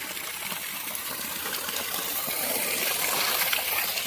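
Water gushing steadily from a 1200W BLDC solar pump outlet, a dense, continuous broadband rush that stays loud and even without pause.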